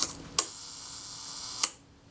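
Kodak Retina II camera shutter set to 1 second: a sharp click opening, a hush of about a second, then a second click closing, near and quiet.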